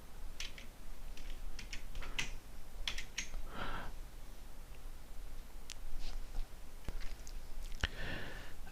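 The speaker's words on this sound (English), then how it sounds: "do this is to use the keyboard, and I would do Control Shift and select that and do Control I" Computer keyboard keys pressed for shortcuts while working in MS Word: scattered, fairly faint clicks and taps spread unevenly through the passage, with no talking.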